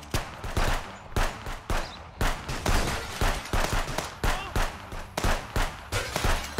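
Rapid gunfire in the police video game Contraband Police, heard as a dense string of sharp, loud shots in quick uneven bursts with barely a pause between them.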